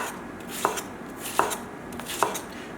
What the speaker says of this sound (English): So what I do is cut in half, and then just cut slices such as so.